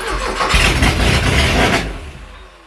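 A classic Porsche 924 engine cranking after more than 30 years unused, a loud churning starter and engine roar lasting nearly two seconds before fading off without catching.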